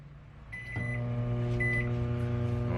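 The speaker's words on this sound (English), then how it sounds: "So another minute in the microwave" A microwave oven hums steadily while heating soft plastic for fishing baits, its motor drone rising as it starts, with a faint high tone briefly above the low steady whir.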